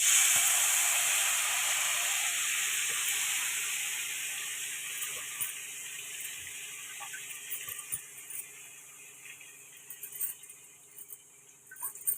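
Aloo methi curry with cumin and garlic frying in a pan, giving a steady hissing sizzle that slowly fades, with scattered clinks and scrapes growing more frequent toward the end.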